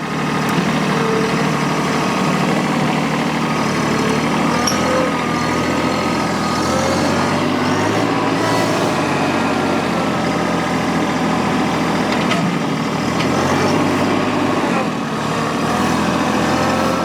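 A firewood processor's engine runs at a constant, loud, low drone while working green red oak, the mechanical hum steady and unbroken throughout, with no talking.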